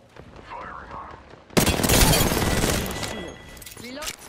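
Rapid bursts of video game gunfire erupt loud and dense from a quiet start, continuing as sustained firing with scattered impacts, under a player's talk during a shooter match.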